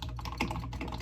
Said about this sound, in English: I'm gonna see if I can record this and actually get like the keyboard sounds